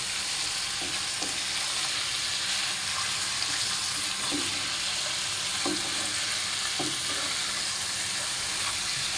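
Pork ribs marinated in oyster sauce, pepper and dried fish, sizzling steadily in a pan for calderetang baboy, with occasional soft scrapes and knocks as they are stirred.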